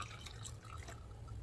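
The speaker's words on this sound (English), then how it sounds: "let's put in 1 cup of boiling hot water." Boiling hot water poured into a pickling brine of dissolved sugar and salt, a quiet, steady trickle and splash of liquid lasting a moment, with no talking.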